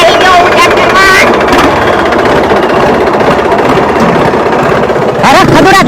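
A tractor engine runs with a continuous, loud, close rumble and drone while voices talk over it near the start and end.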